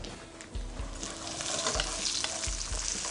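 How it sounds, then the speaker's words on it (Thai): Garlic and coriander root stir-fry in hot oil with a dense, continuous sizzle, broken by repeated low scraping thumps of stirring in the pan. "ทีนี้เราก็จะผัดกระเทียมนี้ให้หอมหน่อยนะครับ"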